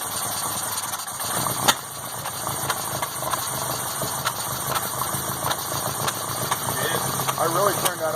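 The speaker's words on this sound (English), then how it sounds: "I really turned that idle up. It's coming alive." A Volkswagen MK2 GTI running on motorcycle carburetors, idling steadily at a raised idle with a constant hum and faint clicks, heard at moderate distance under a voice.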